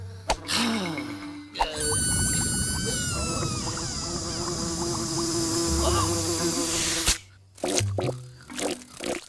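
Cartoon housefly buzzing loudly and continuously up close for several seconds, with wavering whiny tones over a busy musical and effects backdrop, cut by short thumps and clatter at the start and end.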